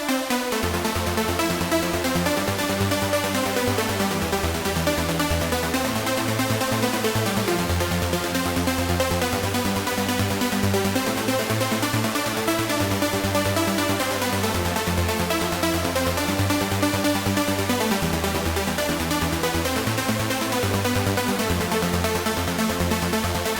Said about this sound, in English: it's a big trance supersaw